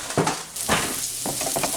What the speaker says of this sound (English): our onions and bacon have rendered down nicely